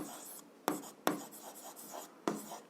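A hand writes out a math solution, quiet scratchy strokes punctuated by a few sharper taps as the writing tool meets the surface, close and otherwise silent.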